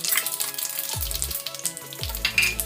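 Urad dal hitting hot oil after mustard seeds for tempering for curd vada, a loud steady sizzle and crackle with a few clinks of a spoon stirring in the pan.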